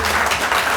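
Brief burst of audience applause at a farewell gathering, many hands clapping together in a dense, steady patter, close and loud.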